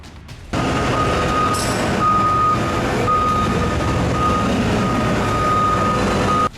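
Reversing alarm of a Caterpillar 797B mining truck: a loud, steady series of repeated high beeps over heavy diesel engine rumble, starting abruptly and running continuously until cutting off near the end.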